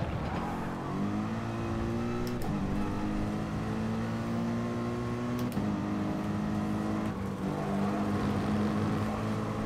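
A heavy race car in Gran Turismo Sport, its engine held in a steady, loud drone that climbs through the revs and drops back at gear changes, heard alone from inside the car.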